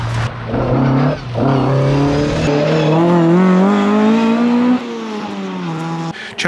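A Ford Escort historic rally car races a stage at the Historic Vltava Rallye, its engine revving hard and rising in pitch through the gears, loud and close, then dropping off as it passes, with no talk.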